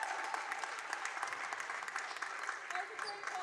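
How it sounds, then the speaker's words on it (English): A crowd and team bench at a girls varsity high school basketball game cheer and clap after a made free throw, a dense sustained burst of applause and shouting heard at a distance. "the bench and the crowd here goes wild"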